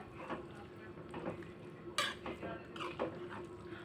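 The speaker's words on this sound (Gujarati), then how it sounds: "હવે આપણે બધું જ મિક્સ કરી લેશું" A spoon stirs a dal khichdi mixture with water in a metal pot, making repeated close scraping clinks and knocks in an uneven rhythm, with one sharper clang midway.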